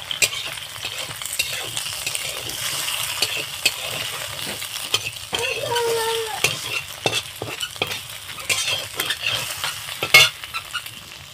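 Egg bhujia, scrambled egg, sizzles in oil while a spoon stirs it, giving soft steady frying with frequent scraping taps against the pan, close and moderately loud.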